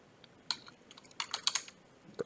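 Someone types on a computer keyboard in a short, quiet burst of uneven clicking keystrokes, a few sharper taps standing out, with no talking.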